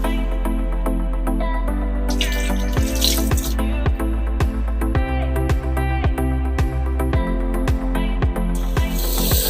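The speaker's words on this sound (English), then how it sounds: "Let's wash our hands." Tap water runs steadily into a sink during hand washing, a constant close splash broken by irregular drips and shifts in the flow.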